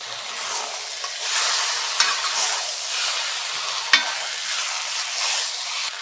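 Half a kilo of washed, salted and turmeric-coated chicken sizzles loudly in a pan of sautéed onions for chicken varuval, a steady close frying hiss broken by a couple of brief stirring scrapes.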